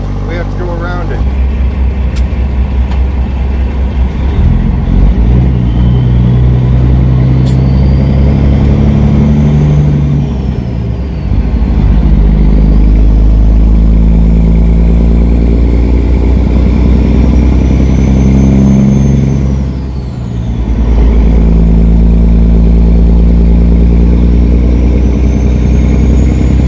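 A truck engine drones steadily and loudly while driving along a pretty road, a constant low rumble with shifting pitch as it works through gears, briefly easing off near the end, with some talk mixed underneath.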